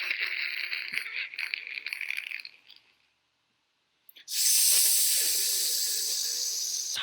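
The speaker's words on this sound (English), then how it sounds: "Can you hear it on the grill?" Food sizzles on a grill, a steady loud hiss that cuts in abruptly after a short silence and holds to the end, following a stretch of fainter hissing.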